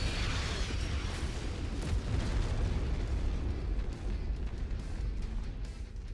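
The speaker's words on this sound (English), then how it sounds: "Getting tired of them firing off rounds every 5 seconds." Artillery fire from the video game MechWarrior 5 rumbles in a dense, continuous barrage of booms, loud and sustained with no talk.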